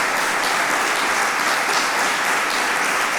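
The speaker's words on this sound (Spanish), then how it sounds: "Pido también, por favor, un fuerte aplauso para el Padre Ángel," An audience at a human-rights route inauguration in Oviedo claps for Padre Ángel, an even, sustained wall of applause from start to end without talk.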